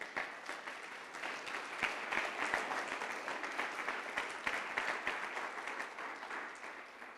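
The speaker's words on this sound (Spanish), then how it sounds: "Denle un aplauso a Jesús." A church congregation applauding during a Spanish-language sermon, a broad wash of many hands clapping continuously at a moderate distance, even and sustained with no voices on top.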